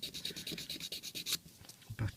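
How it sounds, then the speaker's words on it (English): Rapid rhythmic rasping of a file working down the seams on a plastic Bandai 1/60 Strike Gundam model kit part, a quick series of close scrapes, then a pause and a few scattered rubs. "So we're just going to file this down."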